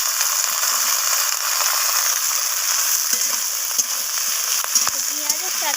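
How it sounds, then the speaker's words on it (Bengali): Malabar spinach stalks sizzle in a pan with browned onion and shellfish, a steady, close frying hiss with occasional soft clinks and scrapes as they are stirred. "পেঁয়াজের সাথে এইভাবে নাড়াচাড়া করে আমি এটাকে একটু ভেজে নিচ্ছি"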